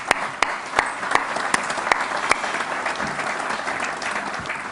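An indoor conference audience applauds the Spanish space agency, a steady wash of many hands clapping with a few sharper claps standing out, the applause gradually thinning toward the end.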